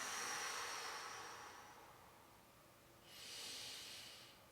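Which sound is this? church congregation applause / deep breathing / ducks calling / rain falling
deep breathing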